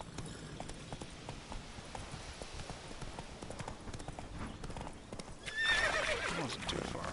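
Video game horse Roach trotting with steady clip-clopping hooves and a brief whinny near the end, faint under a voice speaking.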